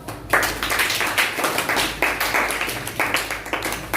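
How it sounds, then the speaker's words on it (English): A classroom of students claps for a girl in a spoken English lesson, with uneven rhythmic bursts of hand claps repeating steadily and fairly near throughout. "Clap for her."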